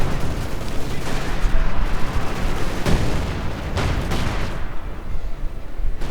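Artillery barrages and small-arms gunfire from the Company of Heroes 2 strategy game: a dense, continuous battle din of booms and rattling shots, with several sharper blasts standing out over six seconds.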